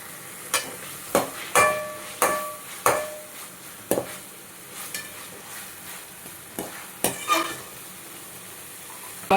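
Ginger garlic paste fries with onions in a pan while a metal spoon stirs and scrapes against it, giving repeated sharp clinks every second or so over a low, steady sizzle, close up, with no talking.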